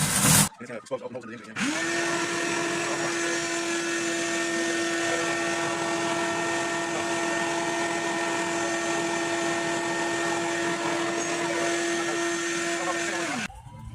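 A steady, loud vacuum cleaner motor whine runs continuously for about twelve seconds close by in a Dodge Durango engine bay, starting and stopping abruptly.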